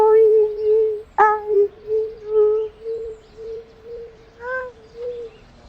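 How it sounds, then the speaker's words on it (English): A cartoon character gives a run of bird-like calls, a short tonal chirp followed by warbling, cooing notes in a steady sequence, close and clear with no talk over it. "It sounds more like a bird than a real spell, Chip."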